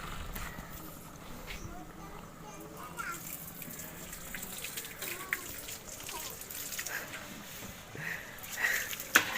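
Water gushes steadily from a water pump pipe as it fills up for a buffalo to drink. The flow splashes continuously, and voices can be heard faintly in the background.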